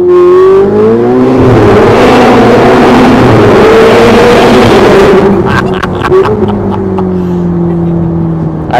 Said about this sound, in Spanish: Vamos a dejarlo tirar para poder dar un poco de gas al túnel.